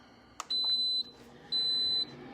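An air fryer responds to its start button with a click followed by two long, clear electronic beeps of equal length separated by a short pause, close and loud over faint room noise.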